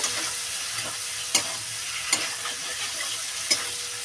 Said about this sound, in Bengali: পনিরটা এবার দিয়ে দেবো পনিরটা দিয়ে একটু নাড়ি চাড়িয়ে নেব